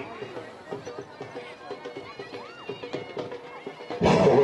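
A horse at a neza bazi tent-pegging event in Sargana, Khanewal, whinnies and runs, with hoofbeats and neighs mixed under a voice talking over the public address and a crowd, ending in a loud burst of noise.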